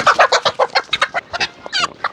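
A pet chicken at a luxury estate clucks and squawks in a rapid, loud, close series of short calls, ending in a higher drawn-out cackle.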